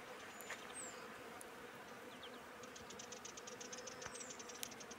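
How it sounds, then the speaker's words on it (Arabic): Bees buzzing as they feed in a flowering spring tree rich in pollen, a steady low drone heard outdoors with faint scattered higher insect whines and no talk. "سماع هدير النحل الذي يتغذى عليها"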